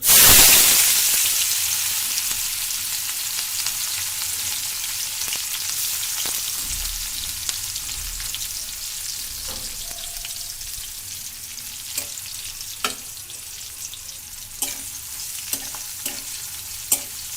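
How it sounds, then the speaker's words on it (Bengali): Raw onions dropped into hot oil with bay leaves for a village-style chicken curry, giving a steady loud sizzle and crackle. Occasional sharp clicks of a stirring utensil sound throughout. "এবারে আমরা কাঁচা পেঁয়াজ দিয়ে দিব।"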